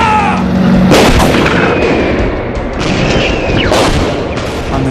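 A loud volley of gunfire in a Doctor Who trailer, with repeated booming shots bursting out over a dense, dramatic soundtrack.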